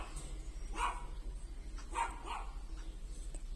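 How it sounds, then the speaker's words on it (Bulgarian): A small dog barks a few times at indoor distance, sharp yips spaced out over a steady low hum, with no one speaking. "Моето кученце си лае."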